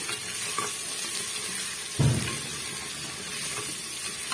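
Small onions sautéing over a high flame in a pan for a drumstick-leaf curry, giving a steady close sizzle with a brief louder burst of stirring midway.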